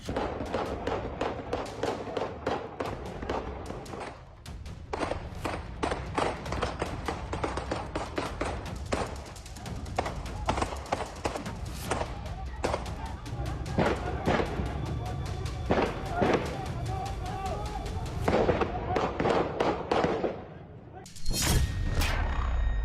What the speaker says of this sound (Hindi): पीओके में दनादन गोलियां चल रही हैं।